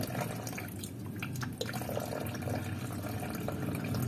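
Coolant squirting and splashing out in a steady continuous gush during a coolant flush on a Honda Civic EG hatchback with a D15B engine, loud and close with no talk.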